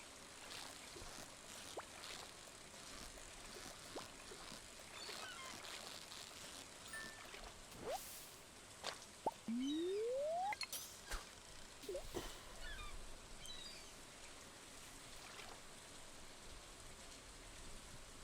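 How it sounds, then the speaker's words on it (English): Soft, steady rain patters in the farming video game Stardew Valley, a quiet continuous hiss broken by a few brief game chimes and a rising tone partway through. "Love the rain sounds."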